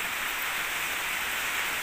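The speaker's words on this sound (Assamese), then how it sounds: "এফালে একদম মুহল ধাৰাৰ বৰষুণ" Heavy rain pouring down hard, a constant dense wash of noise with no let-up across the short stretch and no voices.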